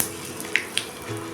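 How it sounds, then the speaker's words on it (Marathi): A hot tempering of spices with asafoetida and turmeric sizzles as it is poured over a tangy raw mango and coconut chutney. It makes a soft, close hiss with a couple of sharp crackles. "ही गरमागरम फोडणी आपण आता चटणीवर ओतून घ्यायचे"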